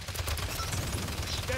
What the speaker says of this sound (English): God, they're firing on us!